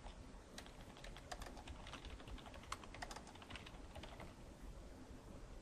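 Password being typed on a computer keyboard, a quiet, close run of irregular key clicks in quick bursts over faint background hiss, with no voices.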